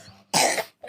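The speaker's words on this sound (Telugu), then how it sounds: "నాకైతే దగ్గు వస్తుంది" One short, sharp human cough bursts out close to the microphone, followed by a brief throat-clearing sound.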